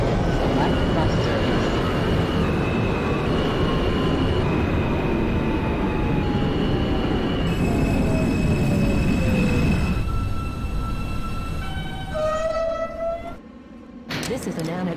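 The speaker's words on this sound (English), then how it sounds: "This is an Annadale bound G train." An R160 Alstom G subway train in the OpenBVE simulator game, bound for Annadale on Staten Island, hums along with a loud traction motor whine whose tones shift and step, then fall away as the train slows toward its stop.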